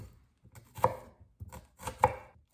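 A knife finely dicing shallot on a cutting board while making a chickpea salad, giving three short clusters of crisp chopping taps separated by pauses, close and clear with no talking.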